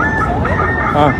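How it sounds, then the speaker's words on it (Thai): A rooster crows loudly and close by on a summer morning in Russia, its strained, wavering call rising over a brief spoken word. "ก็ได้ยินเสียงไก่ขันเนาะ"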